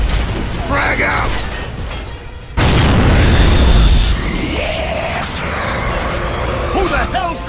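A frag grenade detonates in the Gears of War 2 game, a loud booming blast that cuts in mid-clip and rumbles on amid battle noise, with shouting voices before and after.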